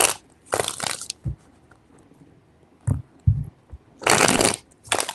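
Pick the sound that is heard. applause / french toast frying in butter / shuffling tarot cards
shuffling tarot cards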